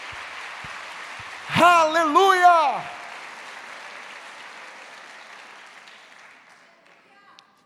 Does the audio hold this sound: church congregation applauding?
yes